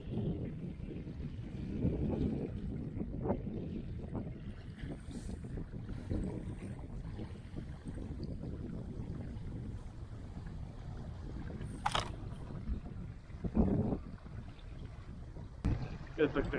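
Gusty wind buffeting the microphone in low rumbling waves at a reservoir, with occasional faint voices and clicks in the background.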